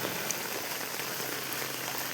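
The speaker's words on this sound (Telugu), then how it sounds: "రాత్రి నుంచి ఇదే వర్షం కురుస్తూనే ఉంది భారీ వర్షం" Heavy rain from Cyclone Montha falls steadily on surfaces around flooded ground in Kavali, a dense, even hiss of drops that holds constant throughout, with no voices.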